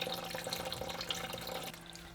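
A thin, faint trickle of water runs from the outlet of a Somatic UF-1 fluidized media reactor on an aquarium, a soft, steady splashing with no voices.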